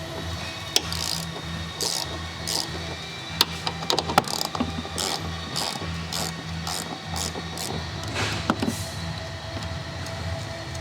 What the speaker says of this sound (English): I'm using a 14 millimeter deep socket with a 3-inch extension to loosen these upper strut mount nuts